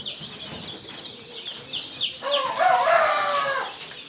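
Local chickens and chicks on a farm, a run of clucks and shrill cheeping that builds into a louder, drawn-out call in the middle, heard close and alone with no talking.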